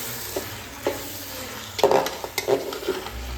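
Chicken being stirred into masala in a pan for biryani, with a low steady sizzle under soft scraping strokes and a few sharper clinks of a spoon against the pan, close and fairly quiet.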